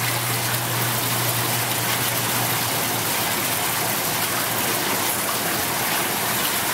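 Oil pumping into a vessel through a barrier, a constant loud gushing, churning flow that stays even from start to finish.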